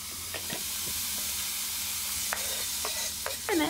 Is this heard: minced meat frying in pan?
yes